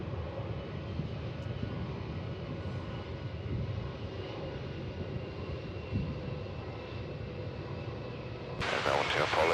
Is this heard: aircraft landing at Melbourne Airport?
yes